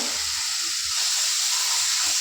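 Freshwater snails coated in salt and turmeric hitting hot oil spiced with five-spice seeds in a wok, a sudden loud hissing sizzle that holds steady and close for a couple of seconds.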